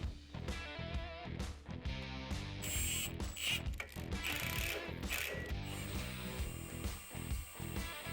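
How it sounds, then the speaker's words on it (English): A shock absorber's bolts are torqued down on a vehicle, giving repeated ratcheting clicks and mechanical rattles up close, with a brief higher whir in the middle. "put your bolts in and torque them down"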